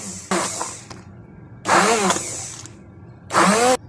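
A mixer grinder pulses mango into pulp in three short, loud whirring bursts, with quieter gaps between them.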